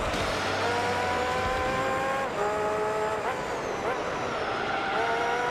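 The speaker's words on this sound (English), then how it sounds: "you'll hear the engines and everything, a little bit of tire squeal" Racing car engines from Gran Turismo 3, a steady loud high-pitched whine with shifting pitch and bits of tire squeal, continuous throughout with no pause.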